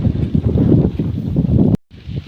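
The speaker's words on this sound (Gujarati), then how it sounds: "બહુ જ પવન હે" Strong wind buffets a microphone outdoors in a village, a loud continuous low roar with gusty surges that cuts out briefly near the end and then resumes.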